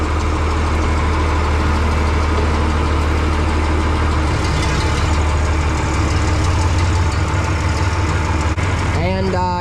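A John Deere 4030 tractor engine idling, a steady low diesel rumble close by that holds even throughout, with a brief higher sound near the end.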